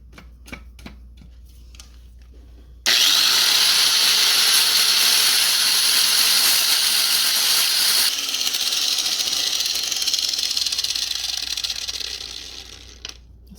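Angle grinder cutting into steel during repair of a 6x6 vehicle, a loud sustained hissing grind that starts abruptly after a few quiet seconds of small knocks, runs steadily for about ten seconds, then tapers off.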